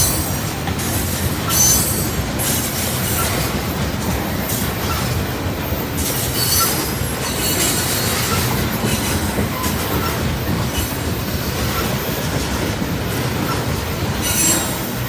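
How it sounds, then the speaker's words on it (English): Long CSX tank train rolling past a road crossing, with a continuous loud rumble of wheels on rail, squealing flanges and rhythmic clickety-clack, steady and close throughout with no talk. "Train's long, isn't it"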